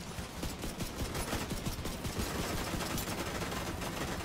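Rapid automatic gunfire from a firefight in The Division 2 video game, dense continuous bursts of shots rattling throughout, fairly loud and steady with no talking.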